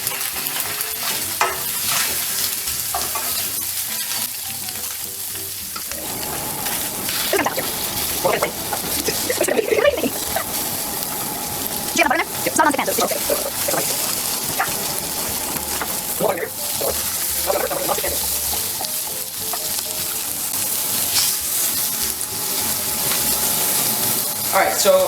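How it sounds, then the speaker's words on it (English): Rainbow trout fillets fry in a hot pan with a continuous loud sizzle and spatter, while a spatula scrapes and presses down at intervals; a person talks over it in places. "I'm gonna cook this fish until it's almost not translucent anymore."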